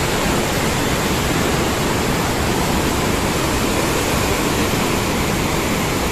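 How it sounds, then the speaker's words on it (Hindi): River water surges through the Koshi barrage in flood, a loud, unbroken roar of rushing current that fills the space evenly from start to finish with no voices over it. "अभी देखिए पानी की वेग, कैसे पानी निकल रही है"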